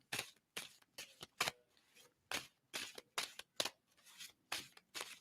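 Playing cards being shuffled, a run of sharp crisp riffling bursts in quick irregular succession, close and fairly quiet, with no talk over them.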